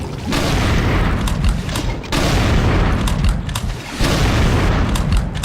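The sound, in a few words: super shotgun blasts in Brutal Doom video game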